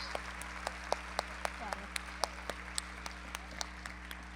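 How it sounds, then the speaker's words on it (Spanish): A graduation ceremony audience gives the graduates a sustained round of applause, a steady crowd of hands with regular sharper claps punching through the wash at an even pace. "Otro aplauso para los graduados,"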